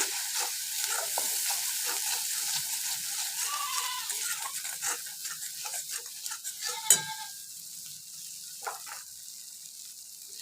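Ground spices are stirred and fried in a pan, a soft continuous sizzle with scattered scraping and stirring clicks, fading a little after one sharper knock.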